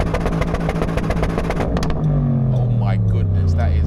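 A Bentley Bentayga Speed in sport mode with traction off revs hard in neutral. Someone talks briefly first, then a single loud, rising engine roar takes over and holds to the end.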